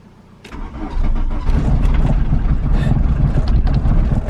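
A Mk2 diesel car engine cranks and fires up after sitting for two weeks, settling into a loud, steady idle close by, with no talking over it.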